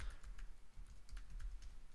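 Quick, light tapping on a computer keyboard, a close and fairly quiet run of keystrokes in an uneven rhythm with no talking over it.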